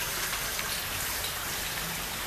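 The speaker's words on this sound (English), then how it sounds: "We got rained on. It's really, really heavy now." Heavy rain pours down beside a river, a dense and steady hiss of countless drops that stays loud and even throughout, with no voices over it.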